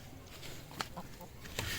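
Young chickens from a breeder rooster clucking close by, a few short soft clucks and rustles over a low, steady background.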